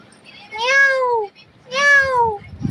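A cat gives two long, drawn-out meows, each rising and then falling, heard close and clear with a brief gap between them.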